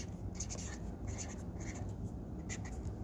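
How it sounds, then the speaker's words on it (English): Steady scratching of pen on paper as a name is written by hand, a continuous close rubbing texture with quick strokes and no talking. "Let's write her name."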